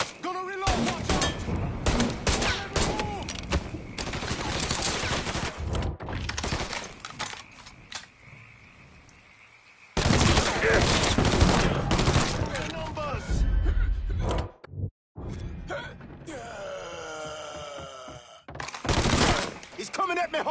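Gunfire in the video game Mafia III: bursts of automatic fire and single shots crackle loudly across the scene, with short pauses and a heavy boom near the end, while voices shout over the action.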